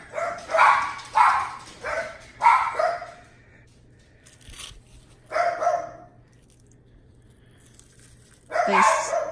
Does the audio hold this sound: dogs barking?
yes